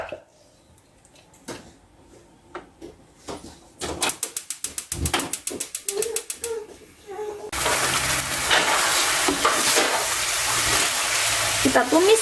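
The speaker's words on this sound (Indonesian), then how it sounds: "Kita tumis seperti bumbu yang putih tadi. Pakai api kecil aja, tumisnya pelan-pelan." Spice paste sautéing in a wok over low heat, still coated with leftover oil, breaks into a steady, close sizzle after a stretch of scattered clinks and scraping, with a voice speaking over the start.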